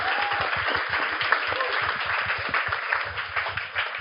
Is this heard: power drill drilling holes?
no